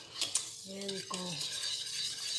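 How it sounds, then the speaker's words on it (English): Egusi soup being stirred rapidly in a pot, a close, busy scraping and swishing of a spoon against the pot, with a brief squeaky tone in the middle. "You must stir fast to avoid the lumps."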